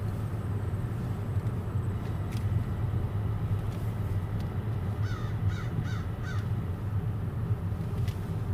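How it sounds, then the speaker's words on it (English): American crows caw in a short burst of several calls around the middle, set against a steady low rumble of distant road traffic; a couple of faint higher chirps appear near the start and end. "American crows."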